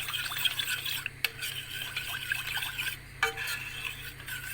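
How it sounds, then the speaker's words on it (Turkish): Eggs are stirred with two tablespoons of gluten-free flour for a baked pasta béchamel, giving a steady wet scraping and sloshing with a couple of sharper utensil knocks against the bowl. "Yumurtadan sonra iki kaşık, iki yemek kaşığı glutensiz un ilave ediyorum. Karıştırıyorum."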